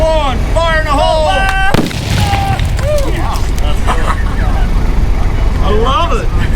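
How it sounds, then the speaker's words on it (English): Rock blast at a gold mine set off with charges in two drill holes, each loaded with boosters: a loud sudden boom near two seconds in, with rumbling debris after it, over continuous machinery noise and background voices. "blast, two blast heads, 2 drill holes, and 2 boosters per hole"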